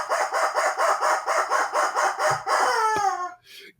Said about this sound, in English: And the rubber chicken says,